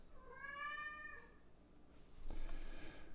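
A cat gives one drawn-out, wavering meow close by, followed by a soft rustle and bump, with no talk.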